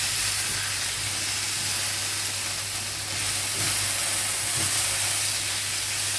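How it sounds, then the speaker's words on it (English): Beef and onions sizzle steadily in a pot, a continuous close hiss of frying with faint stirring clinks and a low background hum, no voices. "we can now add it into the pot that's got the onion in"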